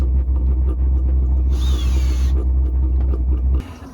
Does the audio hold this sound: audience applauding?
no